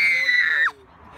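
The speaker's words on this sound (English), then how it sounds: "You have to scream for everything." A single loud, high-pitched scream held for about two thirds of a second, then breaking off and dropping away, heard up close during a group outing.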